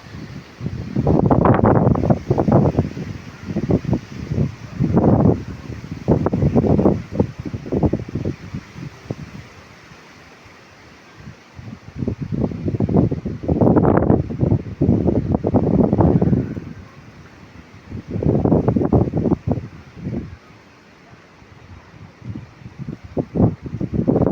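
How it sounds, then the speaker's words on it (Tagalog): Typhoon wind buffets the microphone in repeated loud rumbling bursts near Bacolod, rising and falling over the whole stretch with brief quieter lulls between gusts. "ang lakas-lakas ng hangin"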